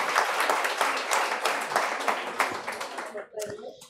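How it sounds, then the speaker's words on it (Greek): Loud, sustained applause from a live audience fills the room with dense steady clapping that fades near the end as a voice cuts in. "Αποδέχομαι χειροκρότημα, ελεύθερα, παρακαλώ"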